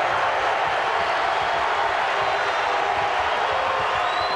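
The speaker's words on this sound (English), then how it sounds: "The crowd rumbling here." Basketball arena crowd at a Tennessee vs Texas game, a steady dense rumble of many voices filling the hall, loud and continuous without distinct claps or cheers standing out.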